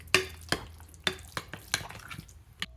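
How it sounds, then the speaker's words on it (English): A spoon stirs a pizza burger mixture of hamburger seasoned with salt and pepper in a bowl, giving a handful of short, quiet scraping clicks spaced about half a second apart, close and soft. "just gonna give that a little stir"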